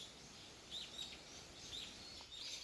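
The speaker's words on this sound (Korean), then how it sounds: "새소리가 엄청 잘 들려요." Faint, distant birdsong in Gyorae forest on Jeju, a few soft chirps and short calls scattered over quiet woodland ambience, no one talking.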